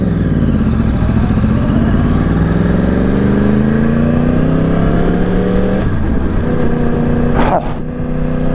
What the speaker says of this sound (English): That exhaust though? I love it a lot,